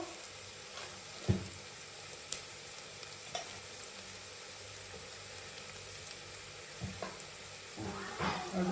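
Ingredients for paneer biryani frying in a pan, a faint steady sizzle with a few soft stirring knocks and scrapes scattered through, no voices.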